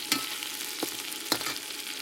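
Crushed dry chili pepper frying in a pan, a faint continuous sizzle with a few sharp crackles and stirring taps.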